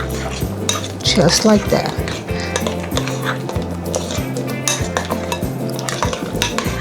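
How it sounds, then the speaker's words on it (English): A utensil mixes ingredients in a bowl for a roasted rack of lamb, with loud rhythmic clinking and scraping against the bowl and a brief spoken remark over it. "I'm just gonna mix this very well"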